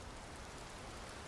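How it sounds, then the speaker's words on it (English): Rain sound effect played through streaming software, a steady, even wash of rainfall noise filling the whole clip at constant loudness, with no voices. "that's as high as the rain can go in OBS"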